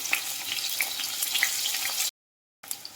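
Onion and kanthari chilli fry in a clay pan with a dense, close sizzle and small pops. The sound cuts out briefly near the end, then the sizzle returns.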